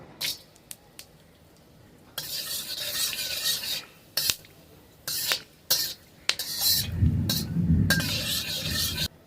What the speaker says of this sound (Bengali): তেলটা গরম হয়ে গেছে, ফোড়নে দিয়ে দিচ্ছি গোটা গরম মশলা।